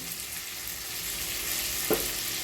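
Tomato and peanuts fry in a pan for a North Karnataka kaccha avalakki tempering, giving a steady close sizzle with a brief clatter of stirring near the end.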